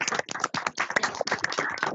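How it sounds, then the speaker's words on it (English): An awards-evening audience at a county football association ceremony gives a round of applause for a walking football league, brisk overlapping claps packed closely together and fairly near. "give a big round of applause to our League of the Year winners, Thames Valley Walking Football League"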